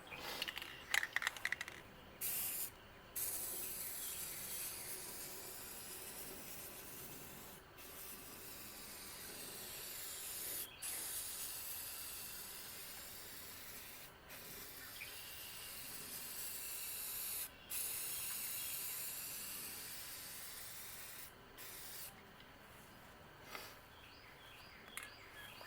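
Steady hiss of a spray paint can coating a car fender, continuous and close, with a few brief pauses as the nozzle is released and pressed again, and no speech.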